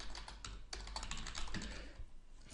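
Fingers type on a computer keyboard while attributes are entered into survey software, a quick run of close, light clicking keystrokes with no talk.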